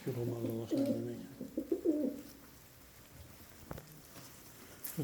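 Uzbek mallavash pigeons coo in a low, rolling burble for the first couple of seconds, close by, then fade into quiet background with a faint knock.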